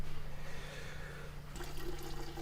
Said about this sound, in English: I add a little bit more water in here.